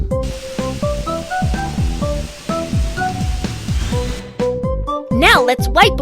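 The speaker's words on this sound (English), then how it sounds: "Let's rinse away the foam." Water rinsing foam off a car in a children's car repair game, a continuous hissing spray under a bouncy plinking tune for about four seconds, then stopping before bright chime-like effects.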